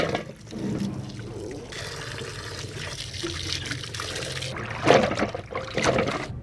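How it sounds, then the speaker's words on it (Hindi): Warm water splashes and pours over camel meat being washed by hand in a basin, a steady close sloshing with louder bursts of splashing toward the end. "अच्छी तरह से गोश्त को साफ़ कर देंगे पानी से, गर्म पानी से"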